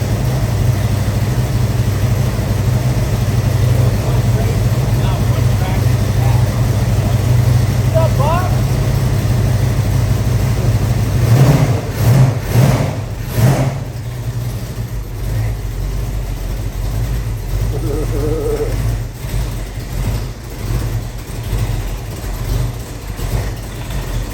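A cold 1971 Hemi Cuda V8 idles with a heavy, lumpy rumble, then blips a few sharp revs near the middle before settling back to a rough idle, with people talking nearby throughout.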